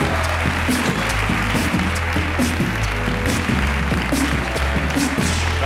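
A Spanish late-night TV studio audience applauds a band, a loud, dense, continuous roar of clapping that fills the whole clip over steady low musical tones.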